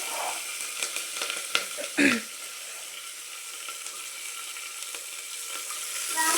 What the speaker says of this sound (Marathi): कढीपत्ता छान कडकडल्याच्या नंतर त्यामध्ये आपण ऍड करू हिरवी मिरची